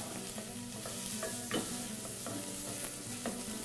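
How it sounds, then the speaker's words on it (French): Onions and garlic sauté in a pan for a vegetable soup, giving a steady close sizzle broken by a few sharp scrapes and knocks of a stirring spoon against the pan. "on va faire bien revenir les oignons et de l'ail"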